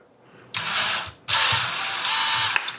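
A hand-held power drill running a quarter inch bit through a workpiece, two close, loud whirring bursts with a brief pause between, ending in a short catch.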